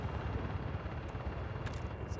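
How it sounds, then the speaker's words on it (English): Helicopter in the military shooter game DF, a steady close rotor thump and engine roar droning evenly and loudly from start to finish with no talk over it. "It deployed me in a helicopter."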